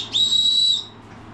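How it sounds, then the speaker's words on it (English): A whistle built into a hiking backpack's chest-strap buckle gives one steady, shrill, piercing blast lasting over half a second, loud and close, then cuts off. "It has a whistle built into your suit."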